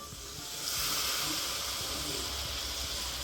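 A garlic-chili and spice paste hits tomatoes cooking in a pan for a rajma gravy and sets off a steady, bright sizzling hiss. The hiss swells within the first second and holds on evenly, with no talking.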